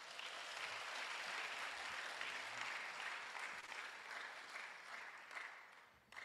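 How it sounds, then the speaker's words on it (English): A crowd at an induction ceremony for newly qualified physician assistants claps together in a dense, even burst of applause that tapers off near the end, heard faintly. "Let's clap hands for ourselves."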